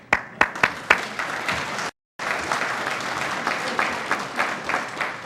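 Audience applause at a police academy graduation ceremony for a cadet class, a dense crowd clapping steadily with sharp individual claps standing out, broken by a brief total dropout partway through.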